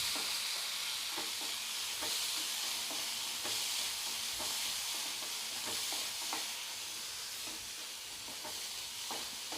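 Tempering frying in hot oil for karamani sundal, a continuous close hiss and sizzle with occasional small pops and stirring taps, steady and fairly loud throughout.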